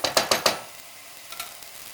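An Antalya-style eggplant dish sautés in a pan: three quick scraping stirs up front, then a soft, faint sizzle with a couple of lighter stirs near the end.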